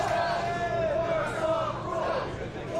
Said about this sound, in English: You already hear the crowd.